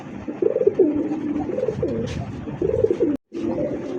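A pigeon coos in repeated rolling phrases, close and clear, over a soft background hum; the bird is a fancy pigeon such as a racer or satin.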